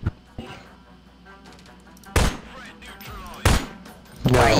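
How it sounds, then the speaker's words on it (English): Gunfire in the Prop Hunt video game: three sharp, loud shots spaced about a second apart, breaking through low background game noise. "Why are you shooting stuff?"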